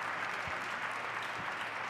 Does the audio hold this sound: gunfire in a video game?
no